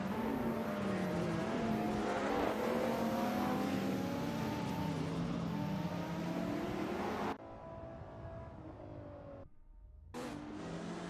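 Retro supercars race in a simulator game, their engines revving and whining through shifting gears for several seconds, then the roar cuts to a quieter hum, drops out briefly and returns. No one speaks.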